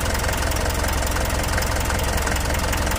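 A Mitsubishi 4M42 diesel engine with injector trouble from running without a fuel filter idles steadily, a loud, close, even knocking clatter that continues without change.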